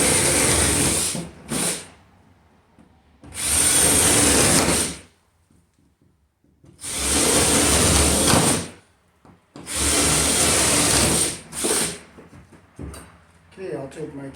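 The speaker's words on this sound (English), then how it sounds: "so we'll drill our hole here to bring our wire through." A power drill bores a hole for smoke detector wiring, likely through wood, in three long, loud high-pitched whirring bursts of about two seconds each, separated by short pauses and brief blips.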